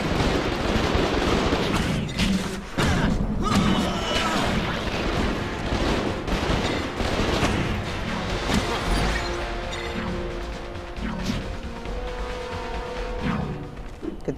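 Shotgun blasts and crashing impacts in a Spider-Man fight against gangsters in a New York City game, coming as a loud, busy run of bangs and smashes that continues without pause.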